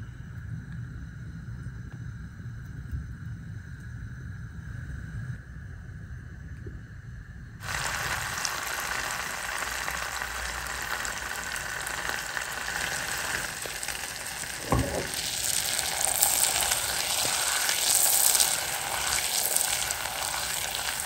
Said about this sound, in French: Je vais le laisser fondre tranquillement dans une casserole jusqu'à ce qu'il ait une couleur ambre